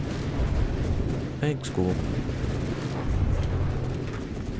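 Shell hit in a video game that strikes an ammo barrel and explodes into a continuous rumbling roar, with someone speaking briefly over the blast.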